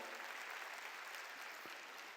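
A church congregation at a New Year's Eve worship service claps together in a soft, distant wash of applause that stays steady for a couple of seconds.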